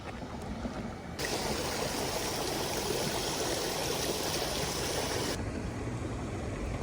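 Raging, murky water rushing through an Arizona canal, a loud, steady broadband roar that swells up sharply after the first second and holds close and continuous with no voices.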